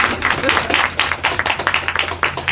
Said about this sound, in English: Come on, it's all right to clap.